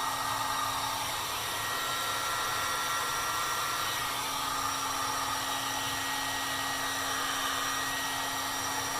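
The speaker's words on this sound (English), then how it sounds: "heat shrink tubing likes to be heated from all angles to get it fairly shrunk" A heat gun blows steadily and continuously at close range, shrinking heat shrink tubing during chassis restoration work on a 1929 Atwater Kent 55C radio, with no talking over the constant roar.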